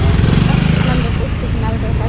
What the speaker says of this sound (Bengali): অটোটা ছেড়ে দিয়েছে